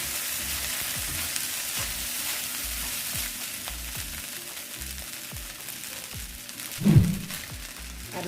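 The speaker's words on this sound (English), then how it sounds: "lifting it and turning it over because you don't want it sticking to your wok" Shrimp fried rice sizzles and crackles in a hot wok, a constant frying hiss broken by regular scraping knocks as the rice is lifted and turned, with one louder clunk near the end; no talking.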